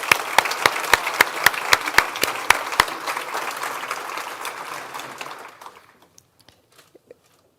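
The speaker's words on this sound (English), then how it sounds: "A round of applause for all of these honored guests." Conference luncheon audience applauding honored guests: a few loud, distinct claps ring out, then a dense wash of applause that fades out around five seconds, leaving scattered late claps in near silence.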